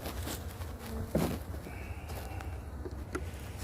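A low insect hum of honey bees buzzing at a hive fills the background, steady and soft, with occasional faint knocks and rustles nearby.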